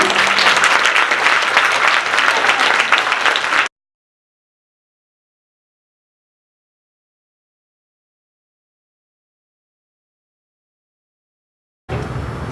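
Audience applause for a panel at a school event for middle schoolers moving up to high school: a dense, loud burst of clapping for about four seconds, then silence, then clapping returns briefly at the very end.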